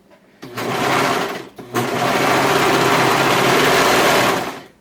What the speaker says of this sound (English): So I'm still at my serger.